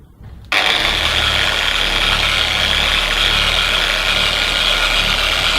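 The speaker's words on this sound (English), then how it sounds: "So for starters, I'm just going to move the machine down the panel, just spreading the compound around." A UF8 dual action polisher starts up after a quiet moment and then runs steadily on a car panel, spreading compound with a loud, constant close-up buzzing drone.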